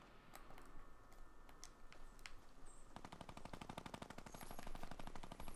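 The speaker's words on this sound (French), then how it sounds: "Ça tire à ma gauche." Gunfire in the Fortnite video game: scattered single shots at first, then a fast sustained burst of automatic fire, fairly faint and distant-sounding, with no talk over it.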